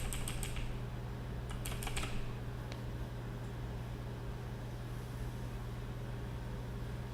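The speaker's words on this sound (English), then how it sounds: "Any different sounding keyboard might be due to the mic position and the kind of mic and stuff." Typing on a computer keyboard during a programming session: a few quick bursts of light clicks in the first seconds, then sparse taps, over a steady low hum.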